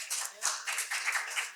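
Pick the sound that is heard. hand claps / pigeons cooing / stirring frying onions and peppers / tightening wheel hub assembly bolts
hand claps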